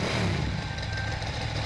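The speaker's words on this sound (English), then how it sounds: "A motorcycle?" A steady engine drone hums throughout, medium-pitched and fairly loud, like a motorcycle idling in a game scene from Persona 3 Portable.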